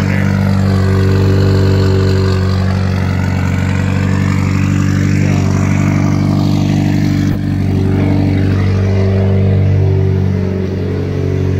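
A Mitsubishi Evo X with a new exhaust manifold runs steadily after sitting unused for four months, a loud continuous engine rumble with strong low harmonics and a brief dip in revs partway through.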